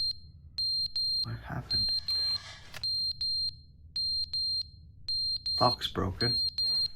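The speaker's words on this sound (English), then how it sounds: "Stop that beeping." A high, piercing electronic alarm in The Stanley Parable beeps in steady repeated pulses, clearly and persistently, while voices talk over it.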